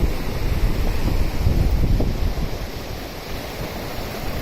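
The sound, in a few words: waves where river water meets the sea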